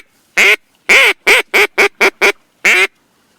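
A Quack Pipes duck call blown for duck hunting: eight loud, close, nasal quacks in a quick series, one long note, then a fast run of shorter ones and a final drawn-out quack, with no other sound.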